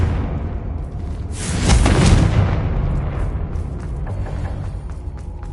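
A Confringo blasting spell explodes during a fight against Ashwinders in a Hogwarts adventure game: a loud, booming burst that swells, then rumbles and fades over a few seconds.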